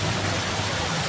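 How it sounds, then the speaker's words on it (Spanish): Heavy rain pours outside an old bar in Metepec, Mexico, as a dense, steady hiss of falling water with no voices. "ahí pueden ver que está lloviendo más fuerte aún"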